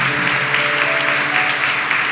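A Holy Thursday Mass congregation applauding, a dense, continuous wash of clapping that fills a reverberant church, steady and fairly loud throughout, with a faint sustained tone underneath.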